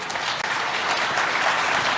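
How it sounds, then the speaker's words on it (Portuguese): An audience at a Brazilian political speech applauds, a thick, sustained wash of many hands clapping that stays loud and even throughout. "São merecidas as palmas às quais eu me associo"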